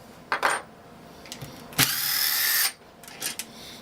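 A small cordless drill driver whirs in short bursts, then runs steadily for nearly a second before stopping, with faint clicks and bumps around it, during work on a Kohler KT17 engine.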